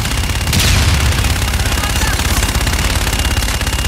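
Sustained gunfire in the Call of Duty: Infinite Warfare combat game, a dense, loud stream of rapid shots and booms that runs nonstop with no gaps.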